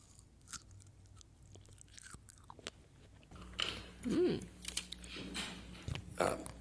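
Someone chews crunchy fruit close to the microphone, several crisp bites and crunches growing louder in the second half, with faint talking in the background.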